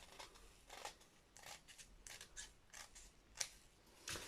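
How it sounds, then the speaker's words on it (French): Scissors snipping away white card trim around the edge of a Halloween shaker card, a quiet close run of about a dozen short crisp cuts in an irregular rhythm. "Donc je vais couper ce qui dépasse de blanc autour."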